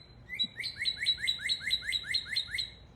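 Several birds call in a quick, repeated run of sharp high chirps, about ten in steady rhythm, fairly close over a quiet background.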